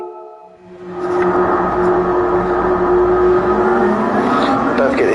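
A stock Gran Turismo 7 Gr.2 race car accelerating toward top speed, its engine rising into a loud sustained roar with a steady tonal whine, with a voice talking over it.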